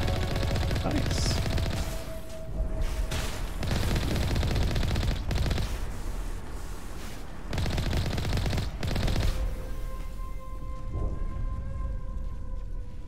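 Sustained automatic weapon fire in the video game Mass Effect 1 Legendary Edition, loud dense bursts broken by short pauses, with electronic tones and game ambience running underneath.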